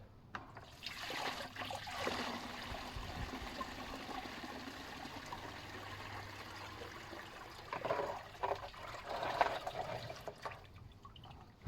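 Water is poured off the top of a bucket of wild clay, pouring and trickling steadily for several seconds, with splashing surges near the end as more is tipped out.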